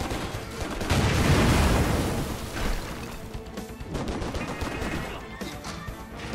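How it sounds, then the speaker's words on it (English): Gunfire and explosions from the action video game Stranglehold, a dense, loud barrage of booming blasts and crashes with rolling low rumble, peaking early and continuing in heavy bursts throughout. "At least you got to see those cool explosions before you died"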